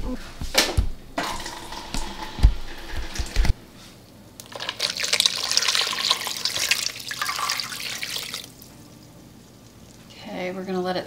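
Water runs from a kitchen tap into a bowl of freshly churned homemade butter for rinsing, a steady splashing pour for several seconds between clattering handling noises, with people talking nearby.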